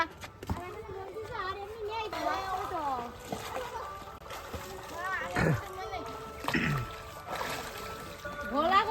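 Water splashes as children swim and bathe, with a grandfather and a mother joining, short splashy bursts mixed with lively children's voices and talk throughout.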